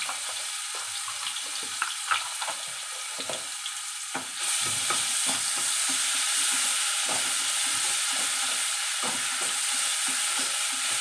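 Radish greens and garlic paste are stirred in a frying pan with lentils, a steady sizzle punctuated by repeated scraping and tapping strokes of the spatula, rising to a louder, fuller hiss partway through.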